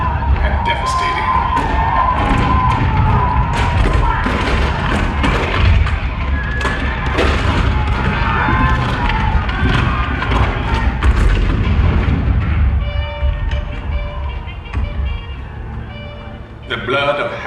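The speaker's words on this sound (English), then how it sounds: "The cannon spoke for war, bitter, violent, and devastating." Deep cannon booms and thuds in the Hall of Presidents show at a theme park's Liberty Square, set against crowd noise, with a narrator's voice speaking over them throughout.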